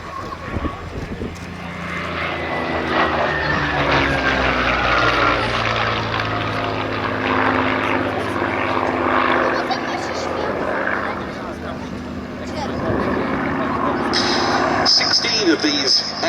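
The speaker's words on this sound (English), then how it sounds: "a pretty evocative image of Bouchon, low over the fields to the south of Duxford" Hispano Buchon propeller fighter making a low pass over fields at the Duxford Battle of Britain airshow, a steady droning engine roar that swells and fades across the whole stretch, with a voice talking over it.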